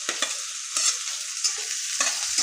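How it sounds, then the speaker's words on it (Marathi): Green chillies and onion fry in hot oil in a pan, a steady close sizzle broken by several sharp scraping stirs of a spatula, with no talking. "तर मिरची थोडीशी फ्राय झाली की आपण कांदा फ्राय करूया"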